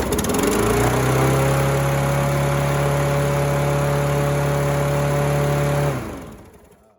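A Briggs & Stratton Quantum 5 hp engine on an MTD lawn mower runs at a steady, even drone for about six seconds, close and loud, then cuts out and winds down to silence.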